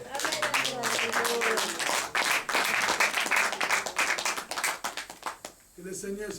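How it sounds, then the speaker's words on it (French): A church congregation applauds together in a sustained wave of hand clapping that rises and then fades, with voices calling out over it and speech resuming at the end. "Acclamons Jésus."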